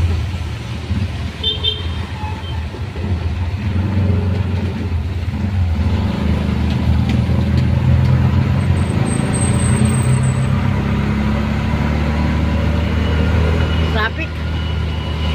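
Rainy road traffic on a trip from Taytay to Binangonan, Rizal: a steady wash of car and bus noise with a couple of short horn toots near the start, loud and close, with people talking over it.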